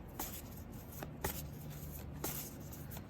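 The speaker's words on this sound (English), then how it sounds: "I shuffled, pulled randomly from the deck" Soft card shuffling close by, a few quick riffles and snaps spaced over a few seconds in a quiet room.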